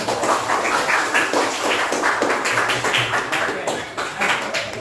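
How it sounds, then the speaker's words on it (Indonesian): Classroom applause for a student during a micro-teaching science lesson: steady, dense clapping from a group of people, continuous and fairly loud throughout. "tepuk tangan untuk Imran tadi"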